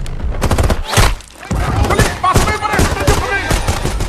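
Bursts of rapid gunfire in an action film fight scene on an island, loud and dense with thumping impacts, running almost continuously with a short lull.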